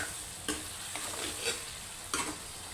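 Spices being stirred and fried in a pan for an okra-and-onion dish, a steady close sizzle with three sharp scraping strokes of the spoon at intervals, no voices.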